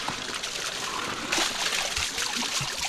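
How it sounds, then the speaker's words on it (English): River-fed water trickles steadily through an irrigation channel in a Moroccan palace, a soft continuous dribble with light splashing, quiet and close, with no voices. "This water comes from a river outside of the palace."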